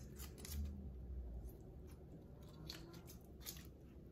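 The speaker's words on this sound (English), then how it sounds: "And then use your kitchen scissors to do the rest." Quiet, repeated snipping and crunching as kitchen scissors cut through turkey, with soft squishy sounds in between, close but faint.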